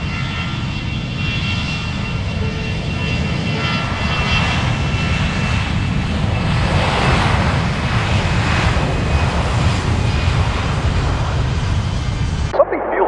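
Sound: airplane engines from video game Besiege

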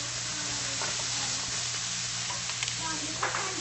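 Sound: stirring thin-cut sirloin frying in a pan

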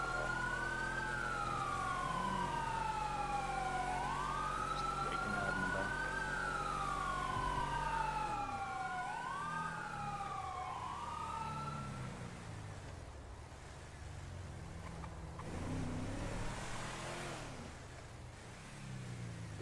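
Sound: ambulance siren in FivePD video game

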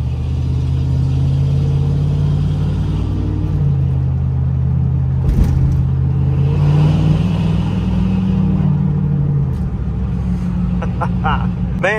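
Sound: 2nd gen truck engine with modified exhaust

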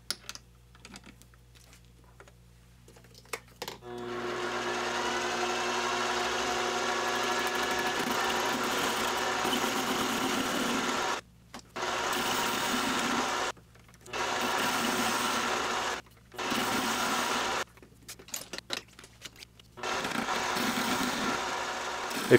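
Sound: mini metal lathe turning a heavy steel spool holder

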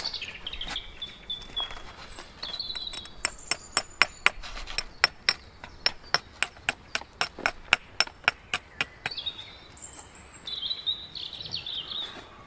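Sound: flint knapping, striking flint stone to shape an axe

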